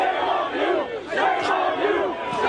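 A crowd of protesters shouting and jeering together, a dense continuous wash of many raised voices with swelling cries rising and falling throughout.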